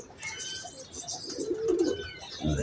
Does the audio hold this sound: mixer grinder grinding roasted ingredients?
no